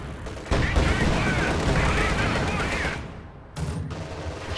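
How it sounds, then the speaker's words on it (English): Heavy mortar and tank fire in a World War II strategy game, a dense continuous barrage of rumbling explosions and shots filling the whole stretch, loud and close, with a brief dip near the end before the firing resumes. "heavy mortars firing on the Schwerer Panzer HQ"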